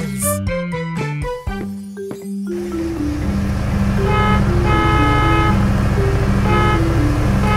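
A cartoon bus honks a series of short musical horn toots over a bouncy jingle, then a steady vehicle hum continues with repeated tonal beeps.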